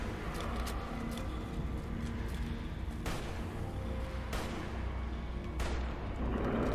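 Video game gunfire in a loud, dense combat scene, with several sharp cracking shots cutting through a constant rumbling din, spaced a second or more apart.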